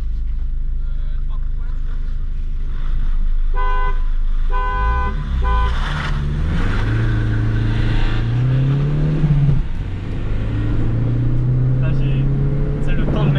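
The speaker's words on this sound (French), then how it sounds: "Je crois je klaxonne." A diesel car's horn honks in a series of short repeated beeps over loud engine noise, followed by the motor revving and rising in pitch.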